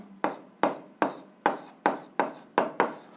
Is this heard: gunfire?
no